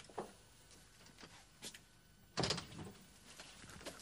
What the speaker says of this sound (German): Tür zu, Tür zu!